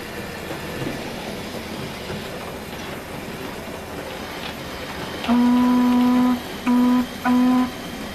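A Hornby Peckett B2 Class 0-6-0 model locomotive arrives with a train: a steady low running rumble, then a loud sustained whistle blast followed by two shorter toots near the end.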